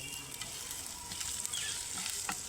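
Chopped ginger and garlic frying in a hot pan, a soft continuous sizzle with faint crackles and a brief stir near the end, heard up close but fairly quiet.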